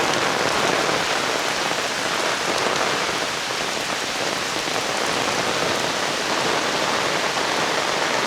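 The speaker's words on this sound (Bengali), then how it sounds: "তো আপনারা দেখতেই পাচ্ছেন কি মুষলধারে বৃষ্টি" Torrential monsoon rain pours down in a rural village, a dense, steady roar of heavy drops hitting surfaces at close range, unbroken and loud throughout with no voices.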